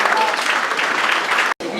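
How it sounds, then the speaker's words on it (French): Loud, dense audience applause fills a room at a flat inauguration in Kasavubu, steady and close for nearly two seconds with a split-second cutout near the end. "On applaudit très fort."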